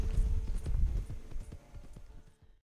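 Horse hooves in Red Dead Redemption 2 Online beat a quick, rhythmic clip-clop, loud and near, slowing and fading out toward the end.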